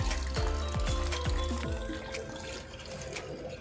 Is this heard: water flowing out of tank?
yes